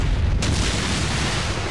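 A sudden deep boom erupts and rolls into a long, sustained roar of rumbling noise, loud and dense, as an explosion bursts behind a character in the visual novel Coμ.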